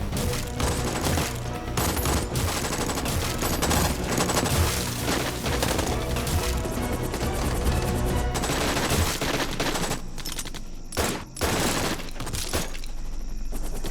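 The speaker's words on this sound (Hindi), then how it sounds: "सर, एनिमी की बहुत हैवी फायरिंग हो रही है सर।" Dense, continuous heavy gunfire and explosions from a South Indian action film battle scene, loud and unbroken throughout with crashing impacts, with no speech.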